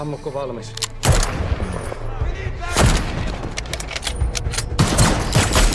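Airsoft gunfire during a Finnish skirmish game: loud bursts of rapid shots arrive in clusters, mixed with background shouting and voices, outdoors and close by.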